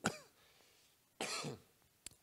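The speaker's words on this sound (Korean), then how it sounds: "제가 2주 전에 코로나를 알았는데 아직까지도 이 기침이 떨어지지가 않네요." A lingering post-COVID cough from an adult man: a sharp single cough, then a longer rasping cough with a throat-clearing tail and a brief final hack, close and fairly loud against a quiet room.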